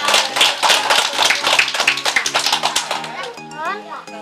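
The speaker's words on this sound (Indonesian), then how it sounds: "Tepuk tangan buat Karina." A crowd claps for a kindergarten child in quick, uneven bursts, loud and close, with children's voices chattering over it as the clapping thins toward the end.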